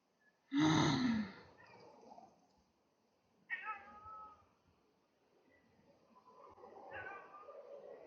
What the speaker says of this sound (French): C'est qui miaule?